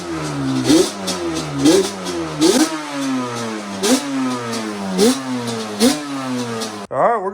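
A Yamaha Banshee ATV with a modified airbox revs repeatedly, close and loud: sharp throttle blips about once a second rise and fall over a rough idle, ending in a brief cutoff.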